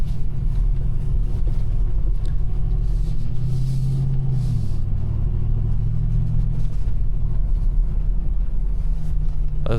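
A car drives along a snowy mountain road with a steady, close, low engine and tyre rumble, a brief shift in engine pitch midway, and no talk.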